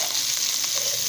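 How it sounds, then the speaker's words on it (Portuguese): Chopped onion and garlic frying in hot oil in a cooking pot, a steady, loud, close sizzling hiss that carries on without a break and has no voices over it. "Agora ele vai fritar tudo aqui"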